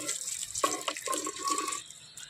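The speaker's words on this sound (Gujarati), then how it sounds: "જૂનવાણી ડંકી છે. આપણે પાણી ભરીએ." Water is drawn from an old-style hand pump, with a few short, close, splashing gushes spaced out over about two seconds and then fading quietly.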